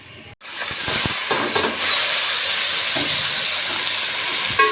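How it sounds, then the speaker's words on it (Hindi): Garlic and cumin tempering in hot oil, a sudden loud hiss that swells into a steady close sizzle, with a few clatters early on and no talk. "सबसे पहले ये हम लहसुन और जीरे का बघार लगा रहे हैं।"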